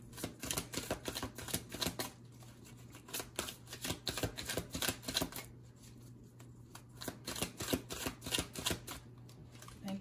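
Tarot cards are shuffled in quick riffling bursts, with rapid crisp flutters repeating in clusters and short pauses between them, close and quiet with no talking.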